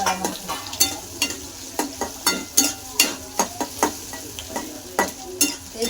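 Food fries in oil in a pan with a steady, close sizzle, broken by regular sharp clinks and scrapes of a spatula stirring at a brisk, even rhythm.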